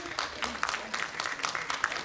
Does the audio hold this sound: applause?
yes